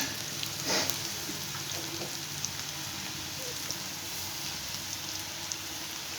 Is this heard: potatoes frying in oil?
yes